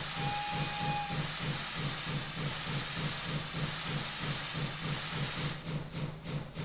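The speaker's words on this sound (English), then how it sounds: "Now we're just on the regular chuffing sound." The steam locomotive King's class chuffs under power in a fast, regular rhythm over a constant hiss, with a brief whistle tone at the start.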